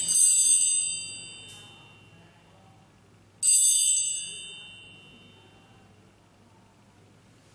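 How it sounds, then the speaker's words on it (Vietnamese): Stainless steel nunchaku fitted with an inner chain and bell, rung twice with bright metallic rings, each strike sharp and loud and then ringing out slowly over a few seconds, close to the microphone with no talking. "nó sẽ được nối với một đoạn xích dài tầm này nữa, thì tạo sự leng keng ở phía trong"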